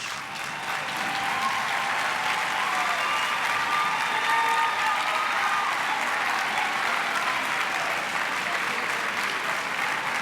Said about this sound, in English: I wonder if you would stand and give them a round of applause for helping you to be here today